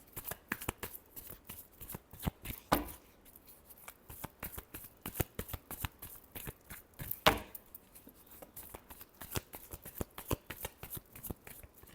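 Tarot cards are shuffled by hand over and over in quick riffling bursts with a few louder snaps, close and crisp, and no voice is heard.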